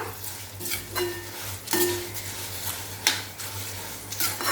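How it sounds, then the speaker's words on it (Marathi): Turmeric and salt are stirred into hot oil in a pan for a poha chivda tempering. A utensil scrapes and clinks against the pan in repeated strokes over a soft, steady background hiss, with no voices. "तर आता इथे मी हळद सुद्धा घालते आणि आता हे सर्व आपण मिक्स करून घेऊया।"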